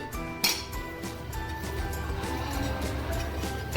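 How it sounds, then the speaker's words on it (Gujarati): Chopped mango and carrot are stirred together for a sweet-sour Gujarati pickle, with a spoon clinking and scraping against a metal bowl in steady light knocks, including one sharper clang near the start, and no talking. "તો હવે આપણે કેરી અને ગાજરને મિક્સ કરીશું"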